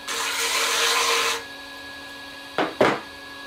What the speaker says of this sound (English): And then foot trimming tool.